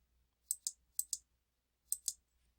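Computer mouse clicks at a desk while working in Haiku software: three quick pairs of crisp, close clicks spread over a few seconds, with near silence between them.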